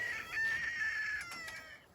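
A single rooster crow rings out, a long strained call rising and trailing off, fairly close and clear with little else around.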